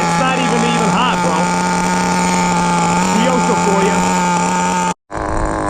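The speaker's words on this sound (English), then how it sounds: "Man, these engines are incredible. Running great." Kyosho FW-06 two-speed nitro RC car engine running steadily and loudly at high revs, a continuous buzzing drone with slight pitch wavers, cutting out briefly near the end before resuming.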